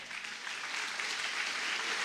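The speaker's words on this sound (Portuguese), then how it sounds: "Aplauda bem forte ao Senhor" A church congregation applauds during a sermon, a steady wash of clapping that stays moderately quiet and builds slightly, with no voices over it.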